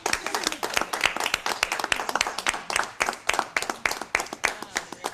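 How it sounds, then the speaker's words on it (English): A magic show audience claps in a run of sharp, distinct handclaps at a brisk, uneven rhythm, fairly close and loud throughout, with no talking over it. "This is where the applause happens."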